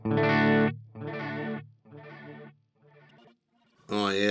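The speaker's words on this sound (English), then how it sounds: "lots of modulation on this one" A guitar chord through a Flamma FX20 modulated delay pedal rings out, then repeats several times as warbling, pitch-wobbling echoes that fade with each repeat before a fresh strum returns.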